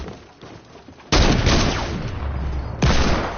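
Sniper rifle fire in a video game, two sudden loud blasts about two seconds apart, each followed by a long rumbling decay, with quieter game noise before the first shot.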